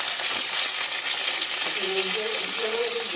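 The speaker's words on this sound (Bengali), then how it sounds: "লবণ দিয়ে কদুলিগুলো একটু হালকা ভেজে দেবো" Bottle gourd pieces fry in a pan with salt, giving a loud, steady hiss and sizzle close by, while a voice speaks over it near the end.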